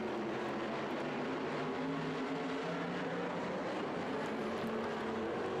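Oval track race cars roar together after the green flag, a continuous dense engine drone heard from a distance, with no distinct pass-bys.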